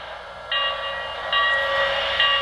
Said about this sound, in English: Or I can do a continuous ringing of the bell by pressing and holding the bell.